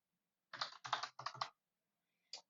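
Quick bursts of computer keyboard typing, three close clusters of keystrokes followed by a single isolated tap after a pause, crisp and near in a quiet room.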